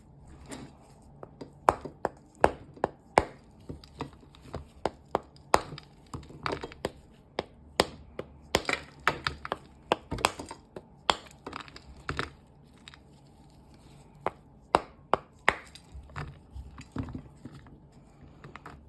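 Irregular sharp cracks and crunches as chunks of moist clay are broken apart close by, with scattered quieter crumbling between the louder snaps.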